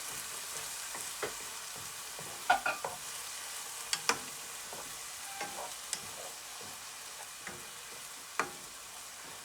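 Garlic and shallots sautéing for a duxelles, a quiet, steady sizzle in the pan punctuated by sharp spoon taps and scrapes against the metal, fairly faint and without speech.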